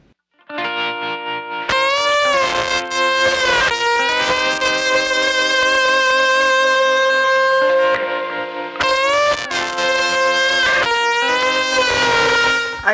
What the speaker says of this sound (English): Should we listen to these lovely guitar parts that we've destroyed altogether?